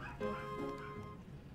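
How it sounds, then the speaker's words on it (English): A dog barks in a few quick yips close by, over a steady background of music and game sounds. "My dog barks."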